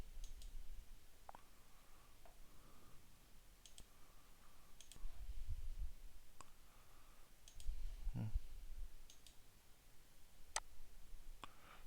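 A computer mouse clicks sparsely and faintly during programming work, single sharp clicks spaced a few seconds apart over a quiet room hum.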